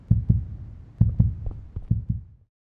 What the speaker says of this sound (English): Do you hear a heartbeat?